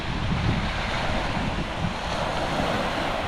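Ocean waves wash steadily onto the shore at a camp on Whitsunday Island, a broad continuous roar of surf mixed with gusty wind buffeting the microphone.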